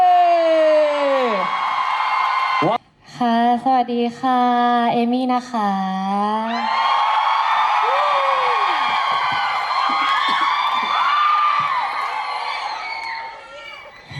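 Someone speaks briefly, then a loud crowd at a fan event erupts in sustained screaming and cheering that gradually fades.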